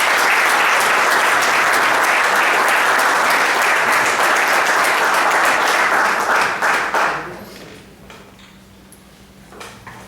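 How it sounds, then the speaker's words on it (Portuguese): Audience at an athletics awards celebration applauds hurdler Fábio Martins with a loud, dense wash of clapping that holds steady for about seven seconds, then fades quickly to scattered claps and quiet room noise. "Os vossos aplausos para Fábio Martins"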